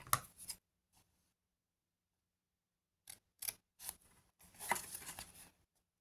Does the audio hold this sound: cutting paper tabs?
yes